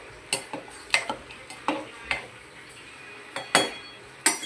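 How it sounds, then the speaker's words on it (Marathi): A spoon stirs rice and lentils for khichdi in a pressure cooker, giving irregular metallic scrapes and clinks, close and fairly crisp, with quiet gaps between strokes and no talking. "याला हलवून घेऊ मस्तपैकी."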